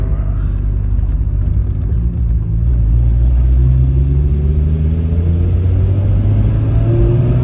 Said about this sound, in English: this blue car I'm driving